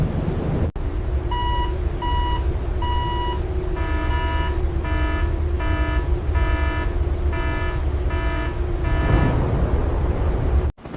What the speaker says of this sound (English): the general alarm is sounded